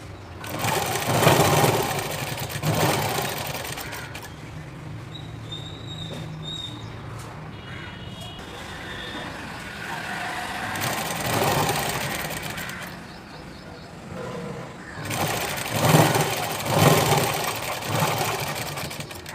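A sewing machine stitches a full blouse, humming steadily in long runs that surge and ease over about twenty seconds, close by with no talk.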